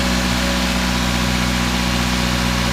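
A Subaru engine idles slightly high after a tune-up, a steady, loud, even drone with strong low harmonic hum and no talk over it.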